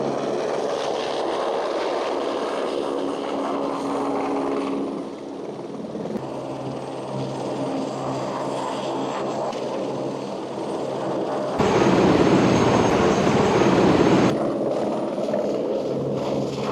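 Seen from the cabin of a passenger helicopter flying toward Kedarnath, a constant loud engine and rotor drone fills the air, swelling briefly louder partway through.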